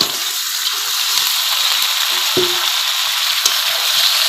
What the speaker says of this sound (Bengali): দিয়ে আমি এখন ভালো করে এভাবে নাড়াচাড়া করে নেব